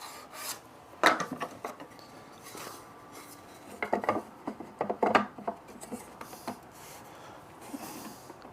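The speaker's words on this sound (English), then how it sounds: "if you rub it. It'll give you a bit of a shine on the timber because it's polishing it" Timber being rubbed to polish it while a drawer is made with hand tools: irregular close scraping and rubbing strokes in short bursts, with a few sharper knocks and quieter gaps between them.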